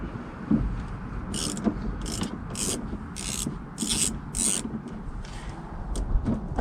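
A ratchet loosens the negative battery terminal on a 2000–2004 Volvo V70/XC70, making close, dry scraping clicks with several bright repeated strokes over a low background rumble, and no voices.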